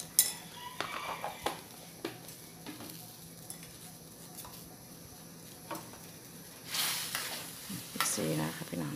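Pork noodles and kale leaves sizzle in a pan while a utensil stirs and scrapes against the metal in intermittent clinks, with someone speaking softly over the cooking.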